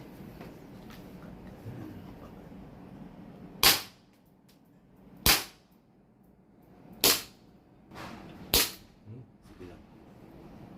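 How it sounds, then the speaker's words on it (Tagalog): Four sharp gunshots ring out at intervals of roughly one and a half seconds, each a loud crack standing out against a quiet background with faint murmuring. "Okay, firing again, sir."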